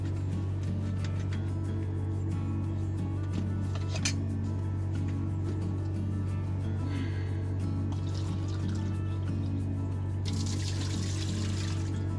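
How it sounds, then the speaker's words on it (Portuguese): Water runs from a tap into a cooking pot for rice inside a truck cab during a rest stop in Spain, a steady trickle lasting throughout over a constant low engine-like hum. "Vou botar água."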